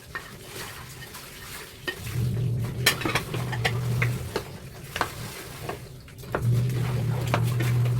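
Beef caldereta with fried meat and cheese is stirred in a pot, giving repeated scraping and clinking of a utensil against the metal over a low simmering sizzle, close and fairly quiet.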